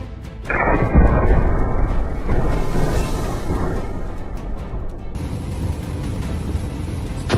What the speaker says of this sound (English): Did you hear that thunderous crack?